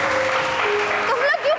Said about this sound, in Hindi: हर बात पे तालियां बज रही हैं